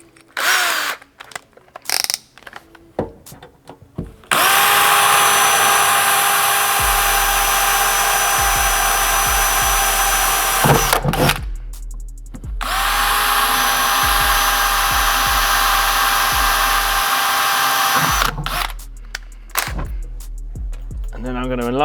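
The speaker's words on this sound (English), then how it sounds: "I'm going to do a pilot hole with my 2mm." A power drill bores a 2 mm pilot hole in punched metal, running loud and steady in two long bursts of about seven seconds each, with brief handling noises and quiet gaps between them.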